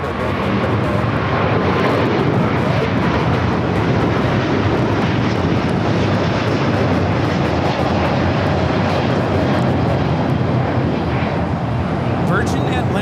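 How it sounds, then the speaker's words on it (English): A Virgin Atlantic Airbus A350-1000 takes off at LAX bound for London Heathrow, its jet engines a loud, steady roar that fills the whole stretch without a break. "Virgin Atlantic Flight 8 taking off to London Heathrow on the A350-1000"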